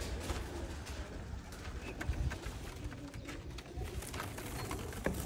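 Black Diamond pigeons, some of them young birds, cooing in a low continuous murmur inside a loft, several voices overlapping with occasional sharper flutters and knocks, no talking.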